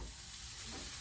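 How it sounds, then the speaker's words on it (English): Small diced potatoes sizzling in an uncleaned frying pan, a steady, close, broadband hiss that runs without pause and with no talk over it. "A nice sizzle."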